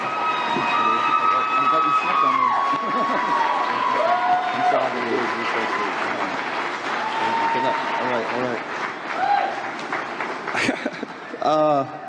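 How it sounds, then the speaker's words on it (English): An audience applauds an award honoree, a dense, steady wash of clapping and crowd noise that continues throughout, with some voices and whistles mixed in. "Please join me in a round of applause."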